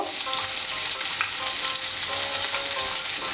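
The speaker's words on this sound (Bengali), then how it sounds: "নুন দিয়ে করলাগুলো ভেজে নেব।" Two medium bitter gourds, cut and salted, fry in hot oil for a traditional Bengali sukto, giving a loud, dense, unbroken sizzle with crackling throughout and no speech.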